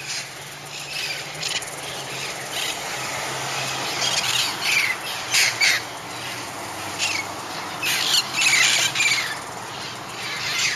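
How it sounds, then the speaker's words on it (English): A flock of wild parrots in Covina squawks and screeches in repeated bursts over a steady background hum, some calls close and loud, others farther off. "pack of wild parrots"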